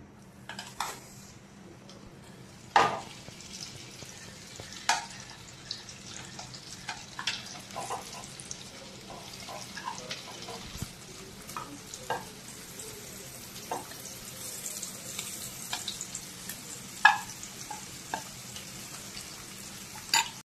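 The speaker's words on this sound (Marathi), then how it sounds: "भेंडी तेलामध्ये फ्राय करून घेऊयात" Okra (bhendi) fries in oil in a home kitchen, giving a steady low crackle and sizzle broken by scattered sharp pops and utensil taps, with no voices.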